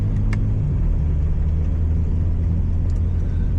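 A 2025 BMW G80 M3 with a straight pipe exhaust cruising slowly over a gravel road, a deep, constant engine rumble droning close by, with faint crunches from the tires.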